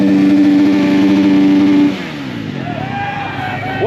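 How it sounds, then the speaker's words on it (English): A loud engine holds a steady high rev at a motorcycle burnout party, then drops off and sputters at a lower, rougher idle with brief rising pitch sweeps, under a noisy crowd. "Oh, there's the revs."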